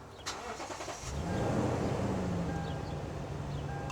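A Lexus car engine fitted with an aftermarket starter kill button cranks and fires up, settling into a steady idle hum that carries on to the end; a sharp click is heard just before the start.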